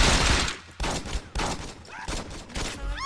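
Rapid bursts of gunfire ring out during a street fight in Saints Row 2, repeated loud shots spread across the few seconds with some voices mixed in among the cracks.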